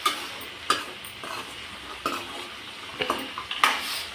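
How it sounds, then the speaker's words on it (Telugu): Tempering spices with ginger garlic paste fry in a pan with a soft sizzle, broken by intermittent clinks and scrapes of a spoon against the metal. No one speaks. "పోపు దినుసులన్నీ వేసేసుకొని మంచిగా పోపు వేసిన ఇంకా కొద్దిగా అల్లం వెల్లుల్లి పేస్ట్ కొద్దిగా పసుపు కూడా వేయాలి"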